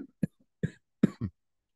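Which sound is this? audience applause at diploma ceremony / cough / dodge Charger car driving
cough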